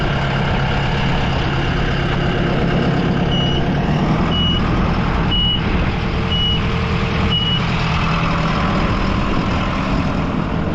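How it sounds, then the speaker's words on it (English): A tractor's PTO drives a spinner fertilizer spreader over sweetcorn, producing a loud, constant engine drone with a steady mechanical hum and faint repeating beeps, all close by. "Let's turn on the PTO, and we'll get that done."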